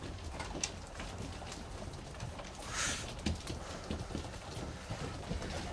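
Ornamental pigeons in a loft give low cooing and soft shuffling and flapping amid a busy, steady background of scratchy movement, fairly close, with no talk.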